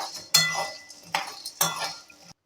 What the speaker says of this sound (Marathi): हे फुटाणे देखील आपल्याला त्याच कढईमध्ये थोडेसे परतवून घ्यायचे आहेत